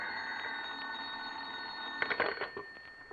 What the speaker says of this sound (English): He was reading the morning paper at home when the phone rang.